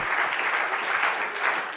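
Church congregation applauding in a continuous, even burst of clapping from a sizeable crowd, loud and close throughout with no speech over it.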